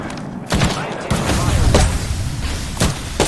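Gunfire in the video game Apex Legends at a tournament, loud booming shots hitting about once a second over a dense, noisy game mix.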